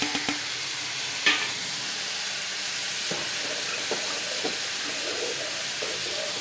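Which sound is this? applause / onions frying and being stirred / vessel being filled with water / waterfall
onions frying and being stirred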